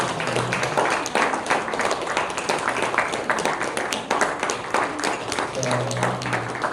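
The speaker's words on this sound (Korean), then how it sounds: "선물 전달할 때 우리 큰 박수 한번 치기를 바랍니다." A church congregation claps steadily throughout during a Sunday service gift presentation, a dense continuous patter of many hands filling the room without pause.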